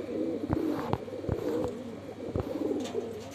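Madrasi pigeons cooing close by in soft, repeated throaty coos with a steady rolling rhythm, several birds overlapping against a low background hum and a few faint clicks.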